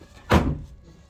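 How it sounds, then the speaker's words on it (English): Trap door on a backyard swingset playhouse, a single dull wooden thunk, close and moderately loud, with little else around it. "We got a little trap door."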